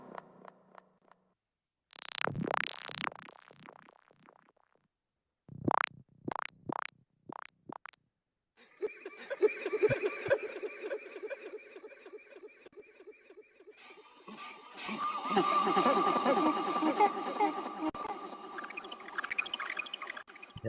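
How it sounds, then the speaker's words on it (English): Squelchy synth patches from a Serum preset pack, heard as separate wet, rubbery, pitch-bending blips and bursts that give way to longer gurgling, bubbling textures and a denser churning wash at the end. "here are some squelchy sounds"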